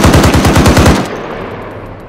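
Rapid automatic gunfire in the ArmA 3 video game: a loud, close burst of about nine evenly spaced shots that stops sharply, leaving a fading echo and faint ambience.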